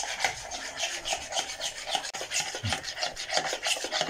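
Ghee being stirred together with eggs for a homemade cake batter, a steady, close, wet scraping and rubbing of a utensil against the bowl that repeats in a quick, uneven rhythm with no voices.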